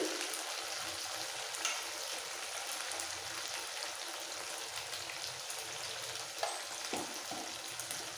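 Spices with turmeric powder sautéing in a pan for a Bengali bata fish curry, a steady soft sizzle and crackle with occasional stirring scrapes, close and continuous without talk.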